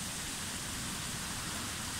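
Rain falling steadily outdoors after a strong gust of wind, a dense even hiss of broadband noise with no talk, constant at moderate level throughout.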